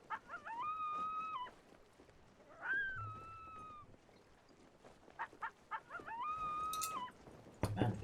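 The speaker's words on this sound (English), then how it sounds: "Man, the puppies are barking tonight." Dogs make repeated high, wavering howl-like barks in three separate bursts, with quieter noises between them, inside a video game.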